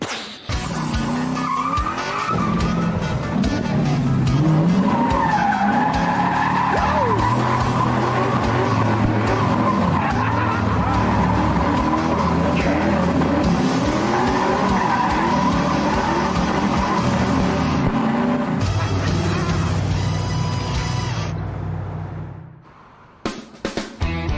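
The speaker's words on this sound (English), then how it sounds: "since I couldn't do a burnout in Arizona, you know what I want to do, Aaron?" An El Camino doing a burnout: a loud, sustained engine roar with tires squealing and skidding for about twenty seconds, then cutting off near the end.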